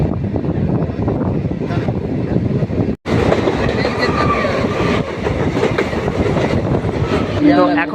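A suburban local train rumbles steadily along the rails with rhythmic clatter, loud and close, ending with a brief metallic wheel squeal.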